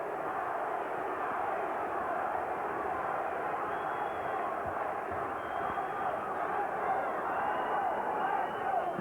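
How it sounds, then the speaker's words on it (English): A boxing crowd at the Iran Barkley vs Michael Nunn fight keeps up a steady, dense roar of chanting for Barkley, with a commentator talking over it. "the crowd chanting, Barkley, Barkley, Barkley"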